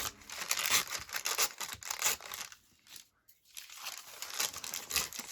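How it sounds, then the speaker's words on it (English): Coffee-dyed paper torn slowly by hand, giving close, crinkly ripping and rustling that runs steadily, drops out briefly past the middle, then resumes. "I have to tear it slowly."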